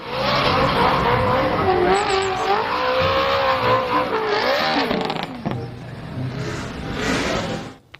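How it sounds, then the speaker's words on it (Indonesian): A race car sound effect plays from a toy race car: a loud engine whine revving and sweeping with tire squeal for about five seconds, then fading off and briefly returning. "Wow, mobil balap teman-teman."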